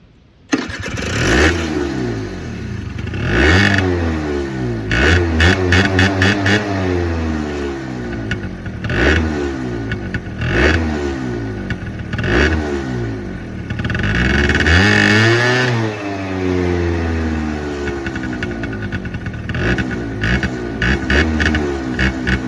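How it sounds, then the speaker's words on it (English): A 50cc moped engine revs hard again and again, each loud rising whine climbing then falling back in a repeated rhythm, close to the microphone with no talking. "we'll just rev my ped up basically"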